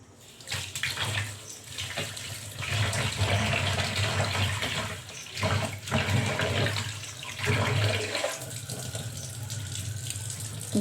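Broken wheat (dalia) being rinsed under a running kitchen tap, water gushing steadily and splashing in a sink, surging louder in bursts with brief lulls, no talk.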